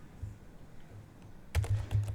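A few quiet keystrokes on a computer keyboard, then a short burst of quicker typing near the end, close and soft.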